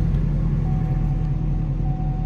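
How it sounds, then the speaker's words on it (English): A car engine fitted with a Corsa NPP exhaust runs steadily, a continuous low rumble with a faint whine and no one speaking. "Hopefully my exhaust isn't too loud and you guys can still hear me."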